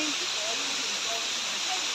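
A waterfall in Sambalpur, heard as a steady, broadband rushing hiss of falling water that stays constant throughout, with faint voices underneath.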